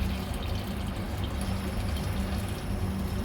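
Three glasses of water being poured into a cooking pot while preparing mutton madhooth, a steady splashing pour lasting a few seconds, fairly loud and close.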